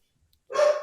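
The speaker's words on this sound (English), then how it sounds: "My dogs are excited about something." A single sharp dog bark sounds fairly close after a moment of near silence, loud and brief with a short tail.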